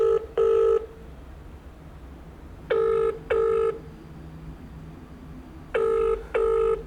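A dialed telephone number rings out on the line, producing three pairs of short, loud electronic ringback tones, each pair separated by a long silent gap.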